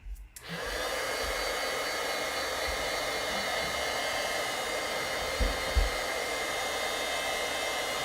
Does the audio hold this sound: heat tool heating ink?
yes